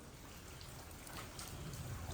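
Rain falls as a faint, continuous hiss, with a soft low rumble that swells slightly toward the end.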